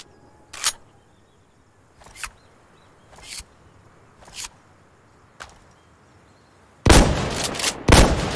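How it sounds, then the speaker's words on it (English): Weapon reload in Insurgency: Sandstorm: several sharp, separate metallic clicks and clacks spaced about a second apart, followed by two louder, heavier bursts near the end, close and clear with no voices. "Need to reload here."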